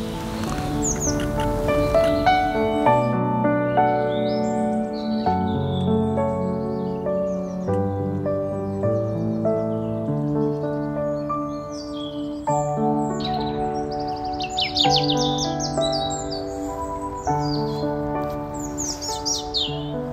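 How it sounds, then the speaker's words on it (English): Robins sing in a patch of woodland at a nature reserve, with bright chirps and short trills scattered through the clip over sustained, music-like tones underneath. No voices are heard. "there's an amazing amount of robins"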